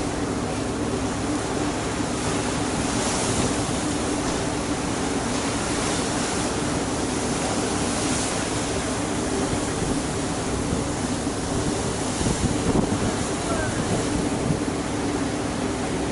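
Ocean waves wash around a massive iceberg in open water, a steady broadband surf roar with wind noise across the microphone throughout, continuous and fairly loud with no speech.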